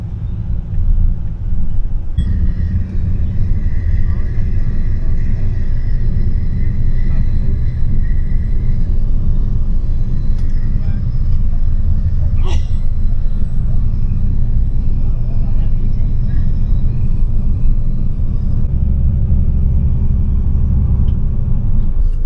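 A sleeper bus travelling through Vietnam toward the Cambodian border gives a steady, loud low-frequency road rumble and engine drone throughout. Faint interior noises and occasional clicks sit on top of it.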